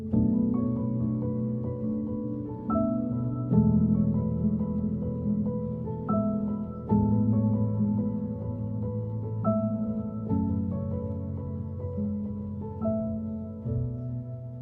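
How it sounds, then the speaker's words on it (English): Overdubbed piano plays the signature riff of a song in a sad acoustic pop cover, a repeating looped phrase of bright chords and a rising melody, close and clear, with no voices. "So went ahead and overdubbed another piano pass"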